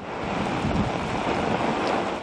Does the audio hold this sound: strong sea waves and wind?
yes